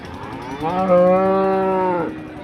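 A single long, deep cow moo rising and holding for over a second, close and clear against quiet background, at a cattle market.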